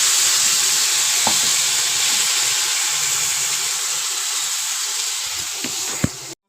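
Ground ginger-garlic paste fries in a pan over a low gas flame, a steady, even sizzle close by, broken by a few faint utensil taps, ending in a sharp clink before cutting off.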